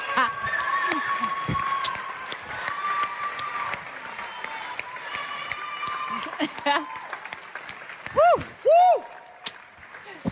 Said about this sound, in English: Love the cheer from down here.